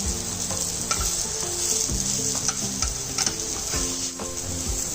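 Paneer cubes frying in a pan for chilli paneer, giving a loud continuous sizzle and crackle, close up, with occasional soft knocks and scrapes of a stirring utensil.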